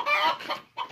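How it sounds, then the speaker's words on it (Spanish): Hen clucking while being bathed in soapy water outdoors in the countryside of Morazán, a few short, loud, close clucks with a brief pause between. "esa gallina se baña como un niño"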